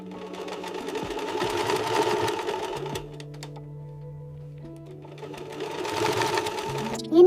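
Sewing machine stitching a small doll dress, two bursts of rapid mechanical whirring separated by a quieter pause, close by, with faint voices in the background.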